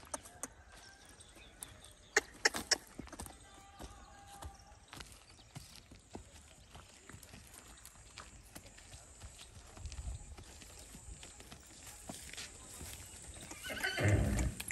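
A mare at Taj Stud Farm neighs loudly in short bursts near the start, while hooves clip-clop on and off through the rest, closer and louder toward the end.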